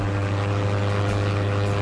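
A propeller-driven airplane drones steadily and loudly throughout, a sustained low engine roar with steady harmonics and a slight swell near the end, as an American pilot dives after a plummeting Liberator bomber in a vintage superhero radio drama.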